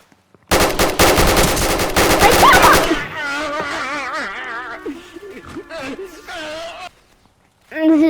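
Rifle fire in a Roblox game: a rapid, loud burst of automatic shots for about two and a half seconds, followed by quieter game effects and a tonal chime before a final burst of sound.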